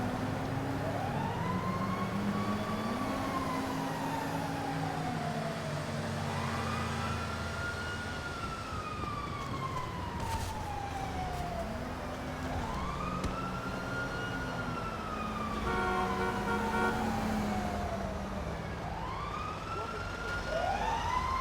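A fire truck siren in GTA V Online wails in long rising and falling sweeps, loud and continuous, over a low rumble of traffic and game sound, with a second siren tone overlapping at times.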